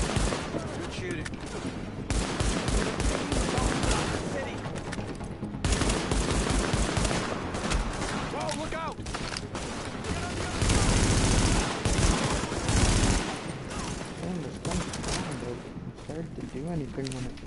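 Video game gunfire in bursts of rapid shots and fusillades across a busy combat mix, with voices talking over the shooting.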